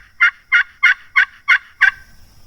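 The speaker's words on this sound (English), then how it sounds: "at least 2 of them together gobbling" Wild turkeys gobble six times in a steady, evenly spaced series, loud and close, with no talk over them and a faint high tone lingering after the last call.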